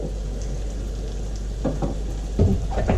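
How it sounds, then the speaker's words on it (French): Garlic fries in hot oil as a tarka for Indian dal, giving a continuous close sizzle with a few louder crackling bursts near the end over a low hum. "On laisse griller l'ail."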